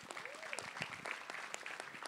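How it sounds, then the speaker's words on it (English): Audience applause at a startup community event in Miami, a steady, moderately faint wash of many hands clapping alone, sustained through the whole stretch. "Let's give Matt and Francesca another big round of applause"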